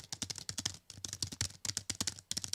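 Keys on a loud Keystage MIDI keyboard controller clack in quick, uneven bursts of sharp clicks, close and alone with no voices.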